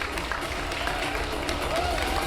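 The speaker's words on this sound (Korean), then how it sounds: "우리의 연니버스의 수장 연상훈 감독님을 박수로 모시겠습니다" Applause and crowd noise at a Korean film production press event as the director is welcomed onto the stage, a dense, steady clapping with a murmuring crowd underneath.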